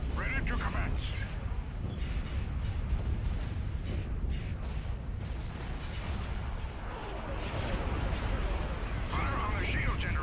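Heavy cannon fire pounds a shield generator in a Star Wars space battle game, a continuous barrage of booming blasts and explosions with voices speaking over it.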